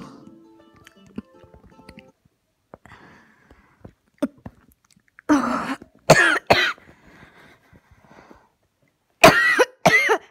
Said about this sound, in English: I got a really bad cough